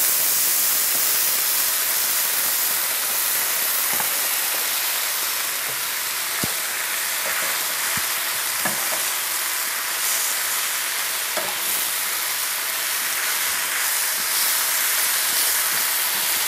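Fresh spinach and mushrooms sizzling in a hot pan, a loud, continuous hissing fry with occasional clicks and scrapes from stirring, close and steady, with no talking.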